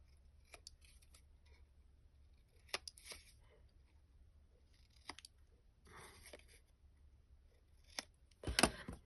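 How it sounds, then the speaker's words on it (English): Scissors snip notches in paper in short, quiet, sparse clicks, ending in a louder crisp rustle. "Now, cut my notches."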